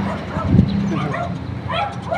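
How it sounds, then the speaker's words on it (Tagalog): A dog barks and yips amid a busy, noisy background with faint voices in Baguio, the barks short and mid-distance. "Uy, may aso. Asong Baguio."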